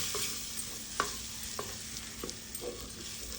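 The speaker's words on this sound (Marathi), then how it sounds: "हे सर्व मसाले मिक्स करून घेऊया" Spices with mint leaves and coriander are stirred in a hot pan for prawn biryani: a soft sizzle broken by a handful of sharp scraping spatula strokes, close and clear.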